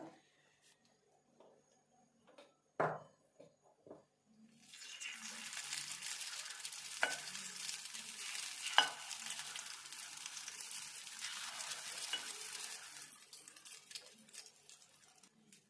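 Potato egg paddu batter hits a hot paddu pan, starting a steady broad sizzle that holds for several seconds after a few quiet clicks and taps, then gradually eases off, with no talking.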